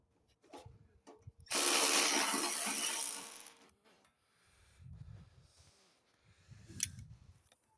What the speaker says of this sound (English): I use a ratchet wrench, 12 millimeter ratchet wrench to get this one out